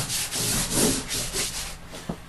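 Chalk rubbed back and forth onto a drawing surface to build thick black coverage, a close, steady scratchy rubbing in repeated strokes that fades slightly near the end.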